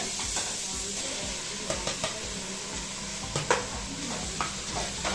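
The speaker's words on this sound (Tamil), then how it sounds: "இஞ்சி பூண்டு வதங்கிடுச்சுங்க தக்காளி போட்டுருங்க" Tomatoes sautéing with onion, ginger and garlic in oil for a banana flower biryani, with a constant near sizzle and frequent scraping, clattering stirs against the pan.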